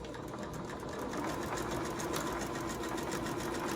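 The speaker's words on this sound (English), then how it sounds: "now I'm just going to run a stitch right down the pin side of both pieces of our back" A sewing machine runs a continuous straight stitch along the pinned back edge of fabric for an envelope pillow cover, a steady rapid mechanical whir heard close and alone.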